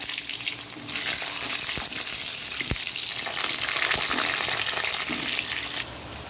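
Potato pieces frying in hot oil with fennel seeds, a steady loud sizzle throughout with occasional faint stirring clicks and no talking.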